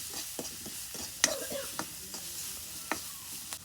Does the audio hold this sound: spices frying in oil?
yes